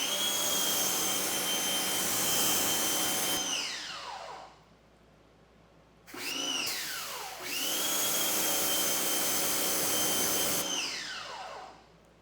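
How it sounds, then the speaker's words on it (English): A forced-air blower dries a car freshly treated with a DIY graphene spray coating, roaring loudly and steadily in long bursts that wind down, fall nearly silent, then spin back up. "let's see how drying the vehicle with forced air with a coating like this"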